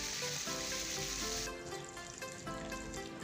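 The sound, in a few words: mustard seeds, dried chili, cumin, curry leaves sizzling in tempering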